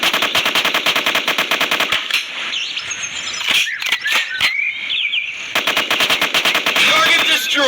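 Rapid automatic gunfire in a shooting video game, long rattling bursts of closely spaced shots at the start and end with a quieter stretch of scattered effects between.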